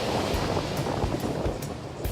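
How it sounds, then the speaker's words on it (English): Big loud sea waves break on the Greek coast in a continuous roaring surf wash with wind buffeting the microphone, no voices. "The sea is so blue and loud, and the waves are so big."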